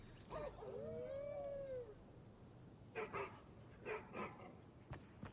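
Faint dog vocalizations: a rising whimpering howl followed by a few short yips and barks, quiet and somewhat distant, while people chat in the background.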